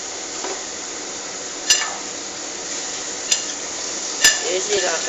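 Salt is stirred into snake gourd curry in a pan: a steady soft scraping with a few sharp metallic taps of the spoon against the pan, close and moderately loud, with no talking.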